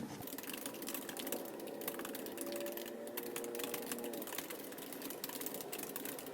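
Quiet, steady typing on a computer keyboard with dense irregular key clicks throughout, close and soft, no voices.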